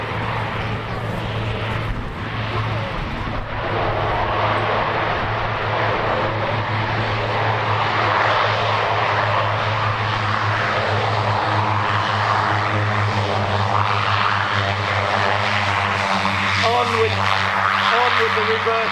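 A North American OV-10 Bronco makes a short, steep landing at the Old Buckenham Airshow. Its propeller engines drone loud and steady throughout, under a commentator's voice.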